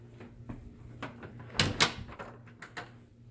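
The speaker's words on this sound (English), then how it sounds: "But this door right here that I mentioned earlier" Soft clicks and knocks of a house's backyard door being handled and opened in a rental home, with a couple of louder thumps midway and faint rustling, heard up close without talk.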